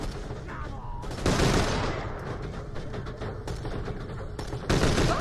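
Rapid gunfire from Borderlands: The Pre-Sequel, loud bursts of shots rattling close by, with a heavier volley near the start and another at the end, no talk over it.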